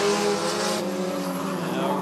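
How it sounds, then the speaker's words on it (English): Bandits-class figure 8 race cars, including a Dodge Neon, drag race through the crossover at Rockford Speedway. Their engines make a loud, steady roar throughout, with possible tire squeal mixed in. "They're gonna drag race down through the X."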